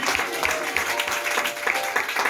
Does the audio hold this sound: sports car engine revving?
no